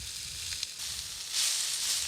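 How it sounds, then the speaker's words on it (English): Onions fry in a camp oven lid used as a pan over a bush fire, giving a continuous close sizzle that swells louder and brighter partway through, with a few small pops and a low fire rumble underneath. No one speaks. "The camp oven lid now becomes a pan to fry up the onions to go with the meat."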